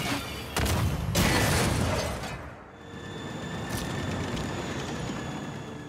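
A tank rolls in and strikes artillery in Civilization VI with a heavy rumbling, clanking impact burst that swells, then fades into a lower mechanical drone with faint tonal hum.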